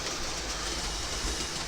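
A model railway train runs with a steady close rumble and faint rhythmic clicking of wheels over track, continuous and even for nearly two seconds with no talk.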